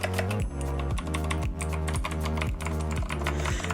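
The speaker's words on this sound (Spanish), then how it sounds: "La verdad, no es un mal teclado, pero hace mucha bulla." Typing on a noisy Redragon computer keyboard: a brisk, loud, close clatter of keystrokes in an even, rolling rhythm.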